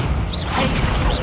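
A fire spell cast in the Hogwarts Legacy video game: a loud, dense burst of whooshing, crackling game effects lasting about a second, with no voice over it.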